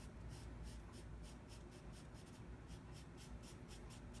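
A hard 2H pencil scratches across paper in steady, evenly spaced strokes, faint but close, with no voices.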